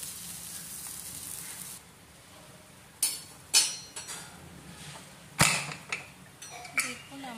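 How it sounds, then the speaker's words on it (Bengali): Spices fry slowly in a pan over low gas with no water added. A faint, steady sizzle runs throughout, broken by several sharp clinks and knocks of a utensil against the pan. "যেহেতু এটা জল দিচ্ছি না তাই আস্তে আস্তে ভেজে নিচ্ছি"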